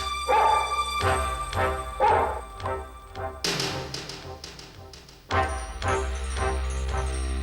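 A dog barks in a series of sharp, loud, close barks, spaced roughly a second apart at first, then a denser burst of barking, set against a music-like background.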